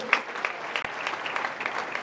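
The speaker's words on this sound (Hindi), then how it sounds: "एक बार अक्षत के लिए जोरदार तालियां होनी चाहिए" An audience at an interactive session at the CIMAGE institute applauds Akshat with dense, steady clapping from many hands that carries evenly through the whole stretch at moderate loudness.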